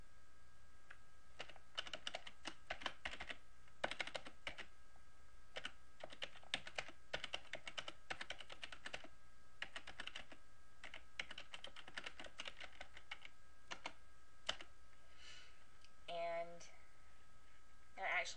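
Computer keyboard typing in quick irregular bursts of light clicks, close but quiet, with short pauses between runs and a faint voice at moments.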